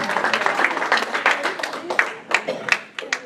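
A church congregation claps loudly in a dense, sustained burst of applause that thins into scattered claps, with voices mixed underneath.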